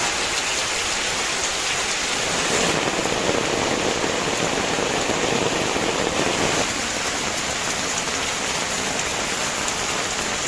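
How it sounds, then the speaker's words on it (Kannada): Heavy monsoon rain in Udupi pours down in a loud, continuous wash, a thick steady roar of drops on surfaces with no voices and no distinct thunderclap standing out. "ಜೋರು ಮಳೆ ಬರ್ತಾ ಉಂಟು ನೋಡಿ."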